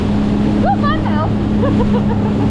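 A 19 ft jet boat crosses 2 to 3 foot waves on open sea off Miami bound for the Bahamas, its loud engine roar steady under wind noise with brief whoops.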